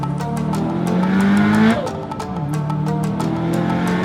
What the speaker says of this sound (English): Turbo noises for days, letting everyone around you know that this is not the STi to be messing with.